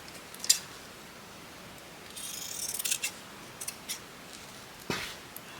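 Scissors snip little bits of fabric off a sewing project, a few quiet separate cuts with soft rubbing of cloth between them, close and with no talk.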